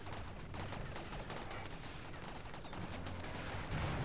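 Rapid bursts of gunfire from centipede mechanoids in the colony-building game Rimworld, a dense crackling fusillade of overlapping shots at moderate distance, steady throughout with no speech.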